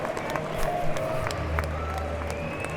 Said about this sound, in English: taking the applause from their fans